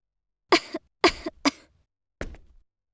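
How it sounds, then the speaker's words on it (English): A female character in the video game Star Ocean: Till the End of Time coughs four times, three quick harsh coughs in a row and then one softer cough after a short pause, close and with no other sound. "She sure was coughing a lot."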